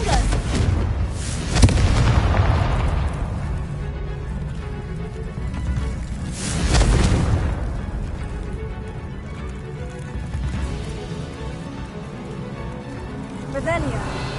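A Confringo blast spell in a video game tunnel, two rumbling explosive booms spaced several seconds apart over a continuous loud game backdrop, with a voice present.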